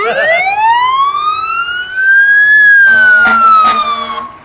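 A fire engine siren at a small-town community festival wails loudly and close, sweeping up in pitch and then back down, with a couple of sharp horn-like blasts near the end.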